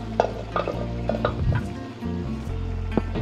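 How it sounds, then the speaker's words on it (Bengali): Cooked lentils, pressure-cooked beforehand, go into a pan of spinach frying with spices for dhaba-style dal palak. A steady close sizzle runs under soft stirring scrapes and occasional light clinks, with no talking. "এরপর আমাদের ডালটি যেটি আমরা প্রেসারে বানিয়েছিলাম ওটা আমরা এর মধ্যে দিয়ে দেবো।"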